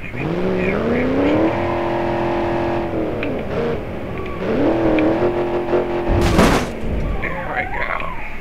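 A car driven around in BeamNG Drive, engine droning steadily and rising and falling in pitch as it revs and shifts, with a brief loud burst near the end, under talk.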